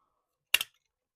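A single sharp snip cuts a hose during a catch can installation, a brief, close double click standing alone in near silence.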